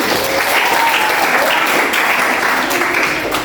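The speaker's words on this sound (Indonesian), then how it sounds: "Oke, tepuk tangan." Students in a classroom applaud during a lesson, a loud, dense burst of clapping that stays steady and close for its whole length.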